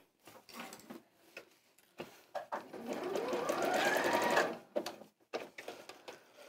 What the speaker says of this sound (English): that's just a tacking stitch